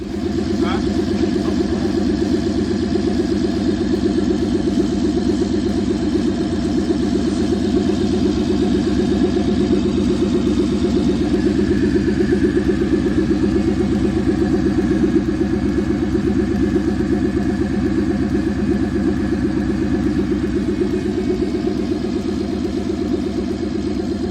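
A car engine runs steadily and loudly, recorded up close at the engine bay, a constant mechanical drone and clatter with no clear breaks.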